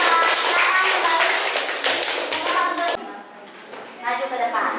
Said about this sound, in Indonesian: Tepuk tangan juga buat kelompok 4.